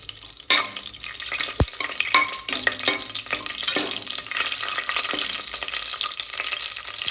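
Whole cinnamon, cloves, bay leaf and stone flower fry in hot oil for mushroom biryani, giving a steady close crackling sizzle with a few sharp stirring clinks and scrapes, no voices.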